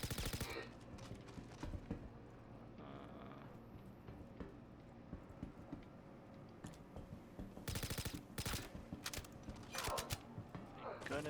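Rapid automatic gunfire in the video game Star Citizen, with dense bursts and single shots over a steady game background, loudest near the end.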